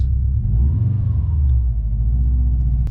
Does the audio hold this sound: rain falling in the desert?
no